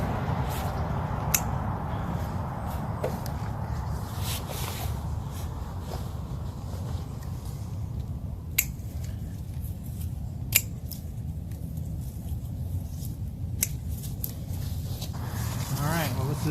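Garden shears snip spent fall plants off at their base, a long run of sharp, irregular clicks close by over a low rustle, with a person talking underneath throughout.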